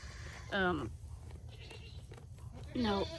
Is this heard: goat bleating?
yes